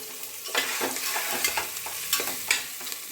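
Onions with ginger garlic paste sautéing in a pan of oil, a continuous bright sizzle broken by repeated scraping stirs of the spatula, close and fairly loud.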